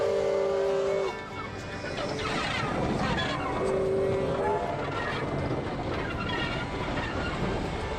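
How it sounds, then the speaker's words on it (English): Heritage railway steam engine being turned around at Hawker, South Australia, with a long two-tone whistle blast, a dense rumbling and clanking of rail movement, then a second whistle over steady mechanical noise. "whilst the hard-working volunteers turn the steam engine around to hook up for our return"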